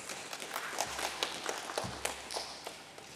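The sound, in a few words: audience applause at listing ceremony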